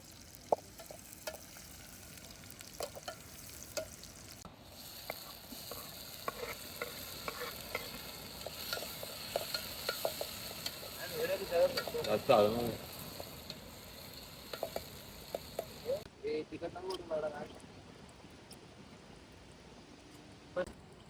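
Onion frying and being stirred in a pan at an outdoor riverside cook-up for a prawn curry, a steady close sizzle with scraping stir strokes throughout and occasional brief voices in the background.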